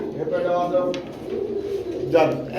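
Pigeons coo at a pigeon market where pairs are sold, low soft warbling calls repeating through the clip beneath the chatter of nearby people talking.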